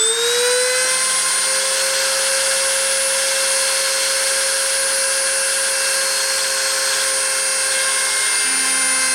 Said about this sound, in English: I'm going to start the spindle and start the deposition.